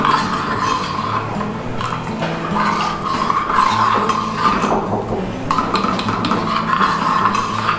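A spoon scraping and stirring harira with milk and fruits in a cooking pot, a continuous soft clatter of metal on the pot over a steady kitchen background.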